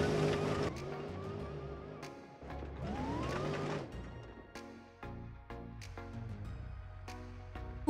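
A Ram TRX pickup in BeamNG Drive, driven at full throttle on sand dunes, its engine revving up through rising pitch sweeps before dropping back to a rough, steady drone, loud and close, with no talk.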